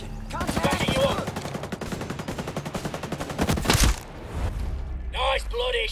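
Rapid automatic gunfire in Ghost Recon Breakpoint, a loud stuttering burst of shots for several seconds with someone talking over it, then a short gap before more voices.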